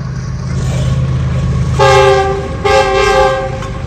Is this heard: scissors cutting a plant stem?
no